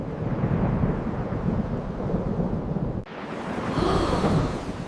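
A thunderstorm with rain rumbles low and continuous, a sharp crack cutting through midway before heavy rumbling and steady rain noise swell again.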